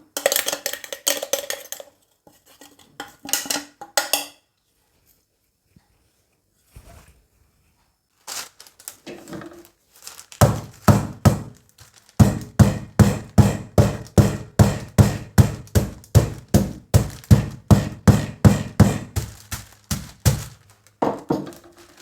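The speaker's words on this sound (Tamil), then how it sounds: "பனங்கட்டியை வெட்டி அல்லது நல்லா சின்னனா ஒரு உலக்கையொண்டால் உடைச்சி போட்டு ஒரு கட்டையால் உடைச்சி போட்டு" Palm jaggery is broken up with a small pestle and a wooden stick. Scattered knocks at first, then a long run of steady, close, hard pounding thuds with a crunchy edge, with no voices.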